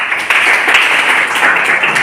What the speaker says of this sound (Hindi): सभी लोग पूरा क्लास इन दोनों के लिए जोरदार तालियां हो जाए